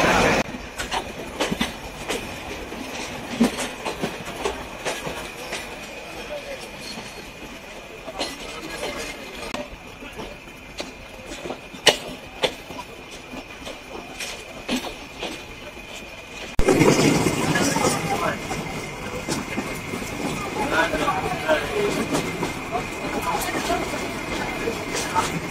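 Express trains crossing in Bangladesh, heard from aboard a Sundarban Express bound for Jessore, with a steady rumble and clickety-clack of wheels that grows louder and denser as another train passes close alongside.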